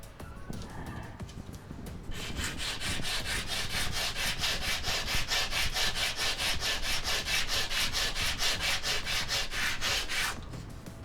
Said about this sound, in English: Let's sand that down.